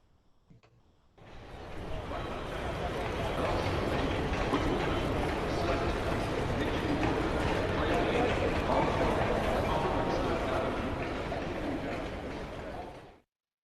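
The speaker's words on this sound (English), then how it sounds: "The train station is so loud I can't hear you." Steady, dense crowd noise and rumbling echo through a large space, like a busy train station, with indistinct chatter and footsteps throughout.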